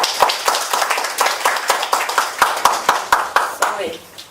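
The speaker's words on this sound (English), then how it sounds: "Please help me to welcome Toshimasa Sayako with big applause." Audience at a meeting giving a big round of applause to welcome a speaker, sharp individual claps standing out close by over a steady crowd clapping that fades toward the end.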